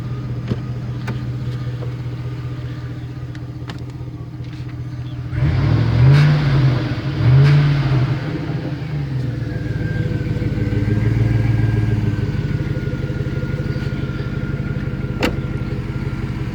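A 2007 Chevy Silverado pickup turns over and fires up with a couple of revs, then settles into a steady idle that carries on through the rest of the sound, close by with no talking.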